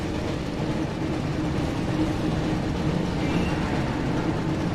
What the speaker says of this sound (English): Looks like we found the train